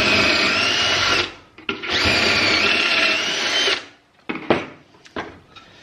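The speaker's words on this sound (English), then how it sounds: "if you have one, just read the instructions. It'll tell you what to do, and then you just drill into it." A power drill bores through a pocket hole jig in two sustained, loud whirring bursts, each lasting over a second, followed by short clicks and clatter as the tool is set down.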